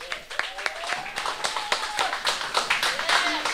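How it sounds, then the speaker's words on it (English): An audience claps at the symphony re-opening of a refurbished theatre, with close, uneven hand claps while voices call out and talk over them. "Next round of applause."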